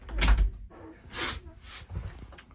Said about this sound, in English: And so I'm actually going to shut the door over here.